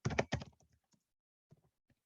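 A burst of quick, crisp key clicks from a computer keyboard as text is typed, close and quiet, then a pause and a few more scattered taps.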